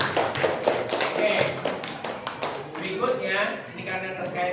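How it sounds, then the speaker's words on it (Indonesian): A classroom group claps for the first student group in a short burst of sharp hand claps, then it tapers off as a teacher's voice carries on. "tepuk tangan dulu untuk kelompok 1 ya, luar biasa sekali"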